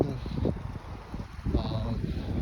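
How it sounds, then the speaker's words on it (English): Gusty afternoon wind in Foster City buffets the microphone with uneven low rumbling bursts and rustle, while a person speaks over it. "Oftentimes it gets very windy after 3 or 4 p.m."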